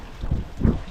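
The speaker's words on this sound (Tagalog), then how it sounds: "Lakas ng ulan" A steady, dense wash of heavy rain with low rumbling surges, loud and close, with no voices.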